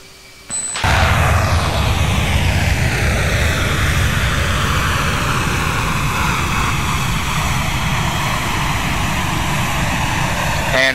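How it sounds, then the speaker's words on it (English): An F/A-18D in the Falcon BMS flight simulator lights its afterburner for takeoff: a loud, sustained jet roar begins abruptly after a moment of quiet and holds steady, with whining tones sliding slowly downward. "let's see this awesome afterburner take off"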